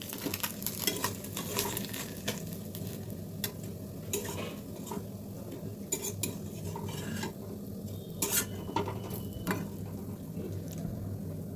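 Fish frying in hot oil in a home kitchen gives a soft, steady sizzle, with stirring and the scrape and clink of a utensil against the pan breaking through at intervals. No one speaks.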